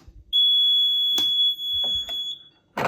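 The group alarm on an air raid warning control unit gives a loud, steady, piercing electronic tone of about two seconds, broken by a few clicks and knocks, then stops. A brief thump follows the tone.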